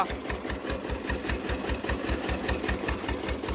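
A small engine running a 4-inch water pump on a borewell chugs continuously with fast, even thumping, loud and close, running steadily throughout.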